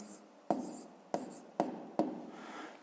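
Pen writing on paper in four short scratchy strokes, each starting with a light tap, close and quiet, with no talking.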